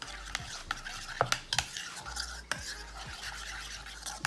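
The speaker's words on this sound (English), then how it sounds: "Mix it on up." Stirring lemon juice into a mixture in a bowl, close soft scraping with sharp utensil clicks against the side, steady and unaccompanied by talk.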